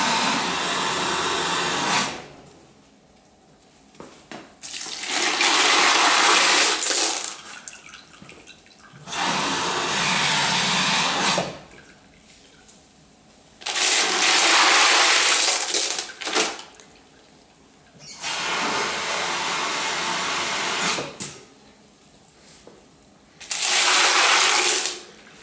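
Polished tumbled rocks with ceramic media from a rotary tumbler are rinsed under running water, in several loud broadband bursts of gushing, splashing flow lasting a few seconds each, separated by quieter pauses with faint clinking.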